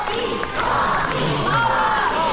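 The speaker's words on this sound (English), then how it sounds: "clap your hands and shout his name just like this" A bird-show audience at a bird park claps and chants a scarlet macaw's name, a loud, dense crowd of mixed voices shouting together close by for a couple of seconds.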